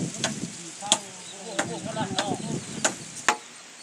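Sharp knife chops land on a board at an uneven pace, mincing duck meat for laab, about half a dozen distinct thwacks, with soft background voices and kitchen clatter between them.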